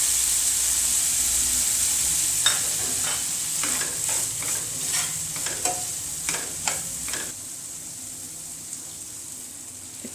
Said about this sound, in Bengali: আমি এই অবস্থায় ফোড়নটা দিয়ে দিচ্ছি